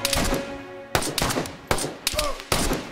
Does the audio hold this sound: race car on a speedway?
no